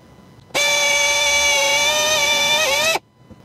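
Drill boring a hole in a metal part from a 1986 Porsche 944 Turbo, a loud, steady high-pitched whine lasting about two and a half seconds, then stopping abruptly.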